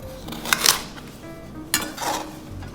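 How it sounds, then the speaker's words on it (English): A knife coarsely chops carrots on a board, a few sharp cutting knocks spaced apart with light clatter between them, close and fairly quiet. "And we're just going to do a coarse chop."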